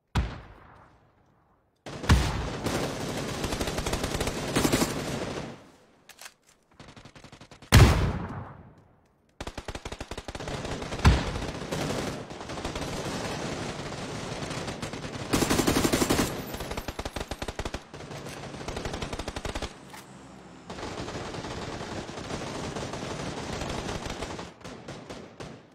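MG3 machine gun fire in the battle royale game PUBG: long, dense automatic bursts of rapid shots separated by short silent gaps, loud and close with no voices over them.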